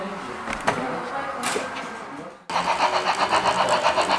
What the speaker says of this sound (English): And the engine on the siding that's aligned with the turnouts will pull out.